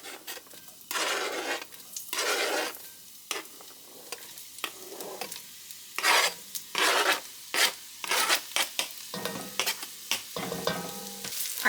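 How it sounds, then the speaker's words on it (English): Chopped yellow onion and garlic sautéing in a pan, with bursts of stirring and scraping over a steady sizzle, close and moderately loud with no talk. "we're gonna saute the onion and the garlic together"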